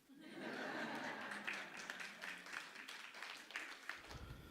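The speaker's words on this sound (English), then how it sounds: "it's okay, you can clap." Audience at a membership launch event breaking into clapping, rising quickly into a sustained, fairly loud round of many hands with some scattered chuckles mixed in, tapering near the end.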